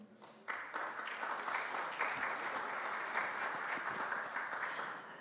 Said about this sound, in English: Another round of applause for Dr. Ezekiel Onyango